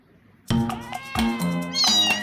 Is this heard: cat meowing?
yes